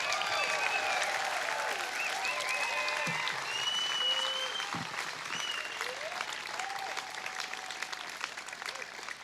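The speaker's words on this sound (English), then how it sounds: "one last round of applause for all of our graduates" Graduates at a Stanford international relations diploma ceremony get sustained applause from the audience, a steady wash of clapping with a few scattered cheers, softening slightly toward the end.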